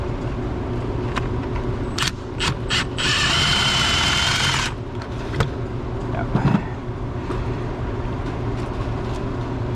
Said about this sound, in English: gonna go ahead and switch over to my 3/8 impact.